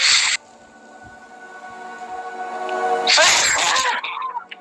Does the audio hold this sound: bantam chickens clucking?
no